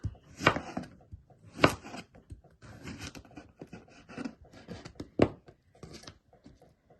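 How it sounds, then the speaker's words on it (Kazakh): A knife chopping cucumber into thin strips on a cutting board while making a radish salad, irregular close taps and sharper knocks of the blade against the board, fairly quiet, with no talking. "Мінекей енді қиярымызды турап аламыз."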